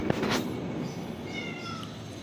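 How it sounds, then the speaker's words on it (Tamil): A cat meows close by in a kitchen, one drawn-out cry at the start that fades into quiet room tone, with faint thin tones lingering after. "ஒரு பூனை வந்திருக்கு"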